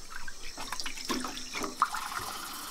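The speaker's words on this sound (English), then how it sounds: "now we'll just measure the water for the cooking" A tap runs water into a cooking pot holding Good King Henry greens for a few seconds, steady splashing and gurgling up close with no voices.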